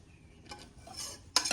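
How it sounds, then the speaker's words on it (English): A spoon stirs dry and wet granola ingredients together in a bowl, making a few soft scraping strokes and then a brighter clink of utensil against the bowl near the end, close and quiet. "So I'm gonna mix this now, the dry and the wet."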